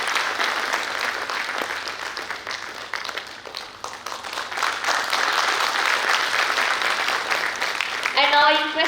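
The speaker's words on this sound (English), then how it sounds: "kindly give him a huge round of applause" Audience at a steel industry conference session in Bhilai applauds as a guest receives a memento on the dais: continuous clapping at a fairly even level, with a brief voice or tone cutting in at the very end.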